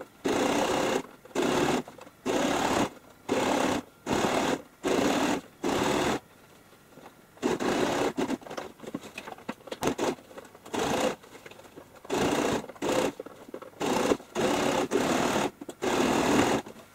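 A sewing machine stitches the base into a fabric handbag with leather handles. Its close, steady runs come as short repeated bursts, then as longer uneven stretches with brief stops.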